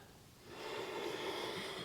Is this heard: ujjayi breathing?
yes